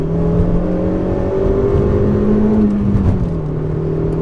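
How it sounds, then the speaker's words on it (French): A Peugeot 106 S16 Rallye engine revving high, heard as a loud, continuous drone whose pitch climbs, dips and rises again from inside the car. "le moteur aime prendre des tours"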